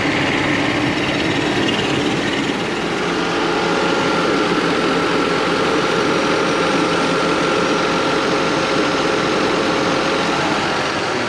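Mercedes-Benz SL engine idling smoothly, a steady even hum with a fine high-pitched whine and no surges, close and moderately loud throughout.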